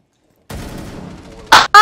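A loud, sharp gunshot, then two quick, punchy shots close together from Rainbow Six Siege gameplay, with no talking.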